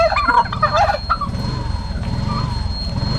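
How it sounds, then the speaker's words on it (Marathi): Domestic turkeys gobbling in a village yard, a loud, close, rapid burst of warbling gobbles followed by continued lower rumbling calls from the flock. "मी आज तुम्हाला माझ्या व्हिडिओमध्ये दाखवणार आहे टर्की बर्ड्स आणि कडकनाथ चिकन"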